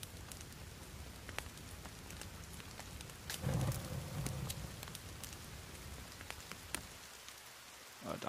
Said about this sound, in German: Ach so, es regnet.